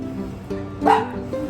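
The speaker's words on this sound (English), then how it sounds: "Oh, these dogs, they want their dinner." A dog gives a couple of short yips and whimpering barks close by, with a louder bark partway through.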